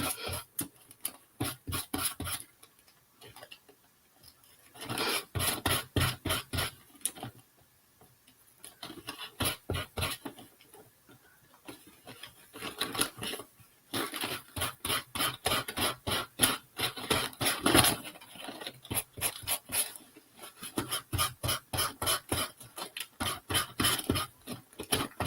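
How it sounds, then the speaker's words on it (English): Hand sanding of a new wooden outdoor plant hanger gives rapid rhythmic rasping strokes in bursts, close and fairly quiet, with short pauses between sets. "So just going to finish sanding all this off, making it to the edges"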